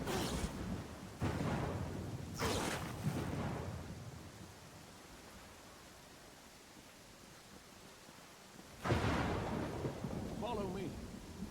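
Thunder from a lightning storm in the video game Pathfinder: Kingmaker comes as several heavy rumbling cracks early on. After a quieter stretch, another loud clap arrives, all over a constant rain-like hiss.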